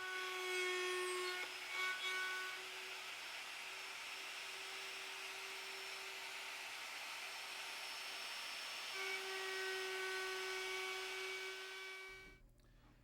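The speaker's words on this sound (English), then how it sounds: "To cut the pins, we've installed a 2-flute carbide bit in our router" Router fitted with a two-flute carbide bit cutting dovetail pins in maple, a steady high whine with strong tonal harmonics running nearly continuously for about twelve seconds before stopping abruptly.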